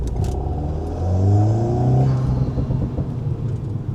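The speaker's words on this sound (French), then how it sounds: "quand on décélère ou quand on descend un rapport, il y a des petites pétarades" An Alpine A110 in sport mode, its engine revving hard up close, swelling to a loud sustained roar and then settling into a rough, throbbing idle, with small exhaust pops on deceleration and downshifts.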